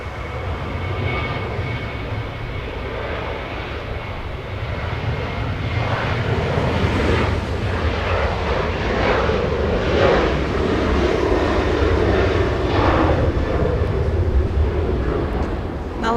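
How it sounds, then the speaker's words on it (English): A Delta Airlines Boeing 737-900 jet departs LAX bound for Salt Lake City, a distant, sustained jet engine roar that swells gradually and holds steady with a broad rushing rumble, heard alone without voices. "we have Delta Airlines, the one that we saw taxi heading to Salt Lake City, getting a move on right now"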